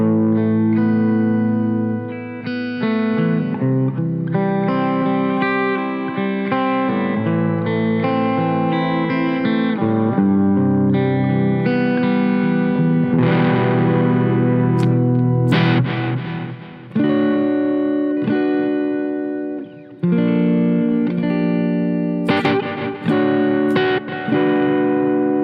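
Electric guitar arpeggios run through the Nembrini MP1 Pro amp simulator on iOS, played as steady picked chord patterns with effects and a full, loud, continuous tone for about twenty-five seconds.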